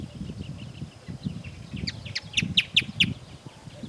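Birds sing outdoors by a lagoon in Paramirim at 7 a.m., a series of bright chirps rising near the end over a low rumbling background.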